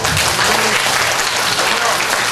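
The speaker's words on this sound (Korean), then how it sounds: "큰 박수 부탁드립니다." A large audience at a high school lecture applauds loudly and continuously, a dense wash of clapping from start to finish, with a voice faintly heard in the crowd noise.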